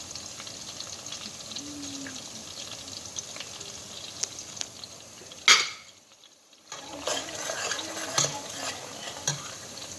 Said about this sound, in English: You have to fry it very dry to reduce the sourness of the onions, the tomato sauce or the tomato.